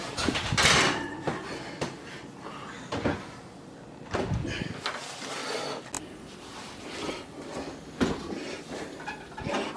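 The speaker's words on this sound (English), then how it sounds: "You want to do the honors and put it in the oven?" A tomato pie being slid into an oven in a home kitchen, with clatters and thumps of the oven door and rack opening and closing in a few bursts, close by and moderately loud.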